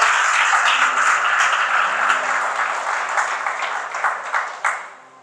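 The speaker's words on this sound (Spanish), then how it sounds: "Si va a aplaudir a Jesús, por favor, hágalo con" A congregation at a church service breaks into sustained, dense applause that fills the room, then gradually thins and fades toward the end.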